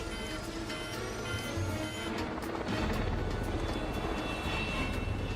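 A rescue helicopter in flight during an action film, with a continuous engine and rotor roar that stays steady and moderately distant throughout.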